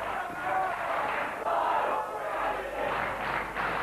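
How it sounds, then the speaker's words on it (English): A wrestling event crowd cheers and shouts in surging waves, loud and continuous throughout, with a commentator's voice mixed in. "The crowd getting right behind Jonny Storm."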